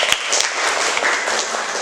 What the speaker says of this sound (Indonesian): Tepuk tangan untuk yang cepat ya